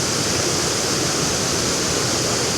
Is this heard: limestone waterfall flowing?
yes